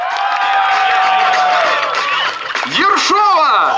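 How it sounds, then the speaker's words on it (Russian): A young crowd at a KVN comedy contest shouts, whoops and cheers in a loud, dense wall of voices that swells with rising yells toward the end. "Ну и долежали ваши аплодисменты и крики, конечно, отличненько!"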